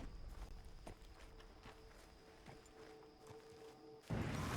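Horses walking in the open world of Red Dead Redemption 2, with soft scattered hoof clops at an irregular pace, faint and distant, ending in a sudden louder rush of noise.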